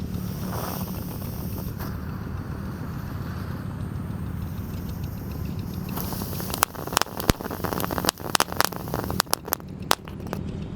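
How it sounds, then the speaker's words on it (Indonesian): A Tank Thor firework fountain with three tanks sprays sparks from the front during a Ramadan evening. It makes a steady rushing hiss, and sharp crackling pops grow denser in the second half. "Lanjut yang kita nyalakan, di sini ada Tank Thor. Sudah menyala guys."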